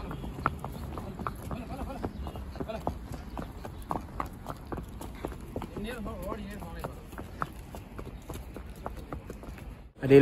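Hooves of a white horse clip-clop steadily on the ground beside the Chenab river as riders mount up, an even rhythmic beat of moderate loudness running throughout.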